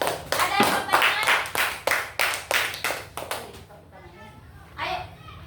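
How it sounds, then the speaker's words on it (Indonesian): Rhythmic unison clapping from a school class, about a dozen sharp beats in a steady pulse. A voice follows briefly after the clapping stops. "Oke, tepuk tangan dulu"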